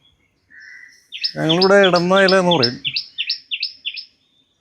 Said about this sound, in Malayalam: ടെറസിൽ കയറി കഴിയുമ്പോഴുള്ള കിളിയുടെ ശബ്ദം ഭയങ്കരമാണ്.